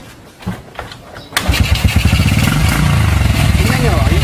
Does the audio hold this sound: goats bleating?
no